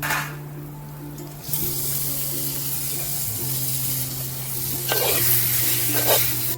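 Loud, steady sizzling erupts as marinated prawns hit a hot pan of cooked masala outdoors, hissing continuously with a few clinks, over a constant low hum.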